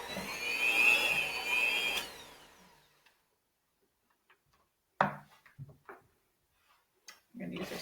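An electric hand mixer whirs steadily through chocolate chip cookie dough for about two seconds, close and fairly loud, then stops and falls quiet before someone speaks.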